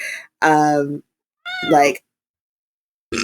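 A cat meows twice, loud and close, the second call rising and drawn out, with a short gap between; a further vocal sound starts at the end.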